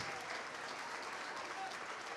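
A church congregation claps together in steady, continuous applause that fills the whole moment with a dense, even wash of hand claps, fairly distant and without pauses.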